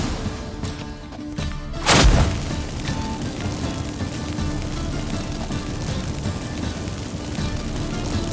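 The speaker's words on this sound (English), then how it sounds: "Get ready for some magic fireworks." Magic fireworks set off by activated incense in The Witcher 3: Wild Hunt, a single loud burst about two seconds in, followed by a steady ambient game rumble with no talking.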